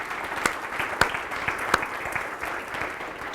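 Audience applause for abstract winners at a hospital research and innovation day, a steady wash of clapping from a mid-sized crowd with a few sharper claps standing out close by.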